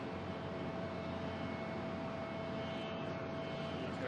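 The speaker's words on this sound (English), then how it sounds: "now we have United Airlines taking off to LAX" United Airlines jet taking off for LAX at Boston Logan International Airport, a steady broadband engine roar held at an even level throughout, distant and continuous with no voices.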